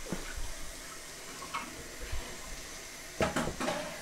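A kitchen tap runs water into a sink while someone bakes carrot cake sandwich cookies, giving a low steady wash of noise with a brief clatter of dishes near the end.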